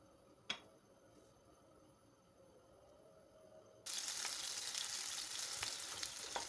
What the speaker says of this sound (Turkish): Biberleri güzelce kızartalım.